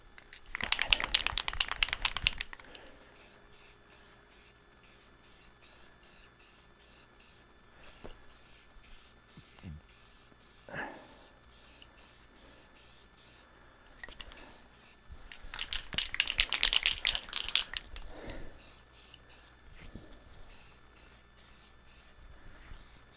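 Primer hisses from a spray nozzle in two loud, close bursts of a couple of seconds each, separated by a quieter stretch of faint clicks and rustling.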